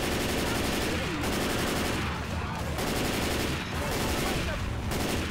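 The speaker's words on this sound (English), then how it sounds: "Blow up every propane tank right underneath this." Gunfire and blasts in the Left 4 Dead 2 video game, with propane tanks going off amid dense, continuous shooting; loud and unbroken, with a few heavier bursts standing out across the stretch.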